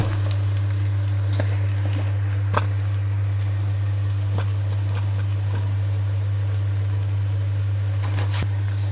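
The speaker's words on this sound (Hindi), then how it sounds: "मसाले हमने फ्राई कर लिए हैं" Spices frying in a pan for an aloo anda shimla mirch dish, a steady soft sizzle with a few scattered small pops and crackles, close and continuous, no talking.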